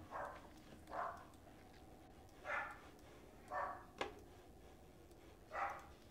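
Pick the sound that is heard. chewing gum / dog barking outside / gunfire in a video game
dog barking outside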